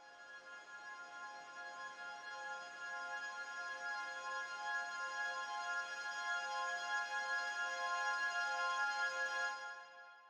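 A sustained, shimmering tonal pad made from time-stretched squeaks, with layered steady harmonics, drones evenly for about ten seconds, then fades out at the end.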